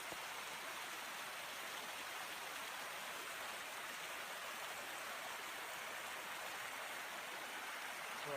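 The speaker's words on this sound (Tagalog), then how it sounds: "Ayan na yung tubig galing sa itaas." River water rushes down from upstream in a steady, dense wash of broadband noise, constant and fairly loud with no pauses and no voices.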